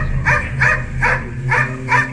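A dog barks five times in a fairly even rhythm, close and loud, with a low background hum between barks.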